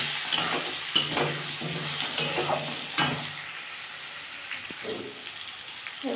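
Potatoes fry with tomato and cumin in a pan for a vegetarian cabbage dish, giving a continuous close sizzle broken by irregular stirring scrapes and taps that fade slightly toward the end.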